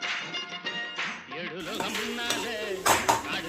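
A ladle scrapes and clinks against a kadai while stirring an okra stir-fry, giving repeated metallic scrapes and knocks, with a voice talking over the stirring.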